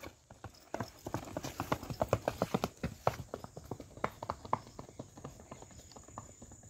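Hooves of a Nukra (Nugree) breed mare clip-clopping along a village road under a rider, a steady close rhythm of hard knocks that quickens and grows denser, with no voices over it.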